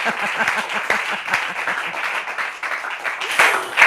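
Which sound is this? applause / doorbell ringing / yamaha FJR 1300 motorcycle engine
applause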